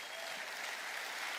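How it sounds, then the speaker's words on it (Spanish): Steady congregational applause at a church conference, a brief continuous wash of clapping heard at moderate distance with no talk over it. "¿Puedes dar un aplauso al Señor por eso?"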